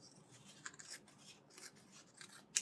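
Scissors cut through two overlapping layers of dyed colored paper, making soft, close snipping and rustling with a sharper snip near the end, quiet overall.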